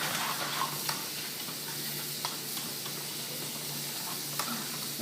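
Sun-dried tomatoes and green onions frying in a pan, a steady close sizzle with faint stirring scrapes and a few light clicks throughout, no voices.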